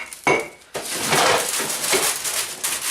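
Cookie dough pressed and moved into a metal baking pan, with a clear clink of metal at the start followed by a steady run of scraping, rustling and dull knocks close by, with no talk.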